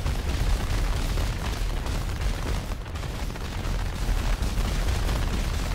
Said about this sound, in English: Oh, it is fireworks.